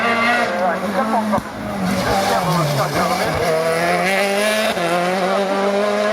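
A race car at the 2019 Graulhet hill climb roars past, engine note rising and falling through gear changes, loud and close, with a commentator speaking over it.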